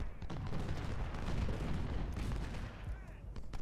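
Cannon and artillery fire in a Civil War battle in the Ultimate General: Civil War game, dense rumbling blasts and crackling volleys rolling continuously, loud and layered.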